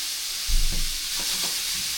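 Jerk salmon fried rice is stirred in a pan, giving a short scraping, shuffling burst over a steady background hiss, followed by a couple of softer stirring scrapes.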